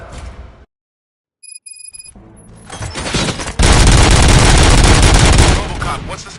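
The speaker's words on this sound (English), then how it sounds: "Gunshots? What's going on?" Gunfire erupts in the RoboCop Rogue City video game, rising from scattered shots into a loud sustained burst of rapid fire that then cuts down, with brief beeping tones just before.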